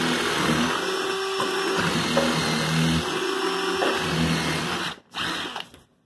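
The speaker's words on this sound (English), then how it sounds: "Tell us what kind of drill bit you got there." A drill fitted with a multi-purpose bit bores into barn wood, a steady loud whirring grind for about five seconds that then cuts out briefly and starts once more before stopping.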